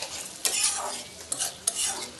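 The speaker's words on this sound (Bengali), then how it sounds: "আর এখন এটাকে আমি আবার একটু নেড়ে চেড়ে দিচ্ছি।" Spoon stirring mixed vegetables with tomatoes and nigella seeds in a hot pan, soft sizzling with a few sharp scraping clinks, close up and without speech.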